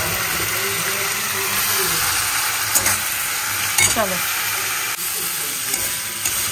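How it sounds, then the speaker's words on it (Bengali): Broad beans frying in a pan and being stirred give a steady close sizzle with scraping spoon strokes throughout; a voice briefly speaks once. "দেখো সিমটা অনেকটা ভাজা ভাজা হয়ে গেছে"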